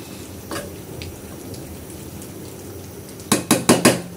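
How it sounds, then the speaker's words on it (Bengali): A metal lid set onto a cooking pot of chicken curry gives a quick run of four loud clanks and rattles near the end, after a few faint kitchen knocks over low background hiss. "ওই মশলাটা মিশিয়ে নিয়ে আমি ঢাকনা দিয়ে ঢেকে রাখবো"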